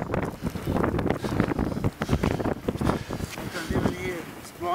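Strong blizzard wind roars and gusts steadily against the microphone outdoors beside a stuck van, with people talking loudly over the noise throughout.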